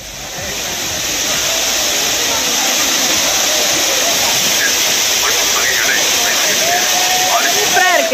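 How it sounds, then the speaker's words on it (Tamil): Heavy water roar of the main waterfall at Kutralam, with tourists bathing under it, a steady loud broadband rush that fills the whole clip, with faint voices and whistle-like calls on top. "தற்போது நீர்வரத்து குறைந்ததால் மெயின் அருவியில் குளிக்க சுற்றுலா பயணிகள் அனுமதிக்கப்பட்டனர்."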